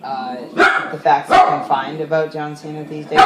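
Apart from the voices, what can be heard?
dog Stewie barking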